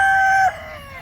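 A Gilmore gamefowl rooster on a farm gives a loud, close crow with a clear sustained tone that breaks off abruptly into a lower trailing call.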